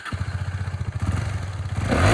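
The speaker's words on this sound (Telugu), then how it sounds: "Bike engine sound and round వే అయితే చూసుకుందాం." A 2021 KTM Duke 250 motorcycle engine pulses at a steady idle up close, then revs briefly near the end, with no speech.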